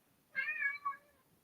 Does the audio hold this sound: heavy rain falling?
no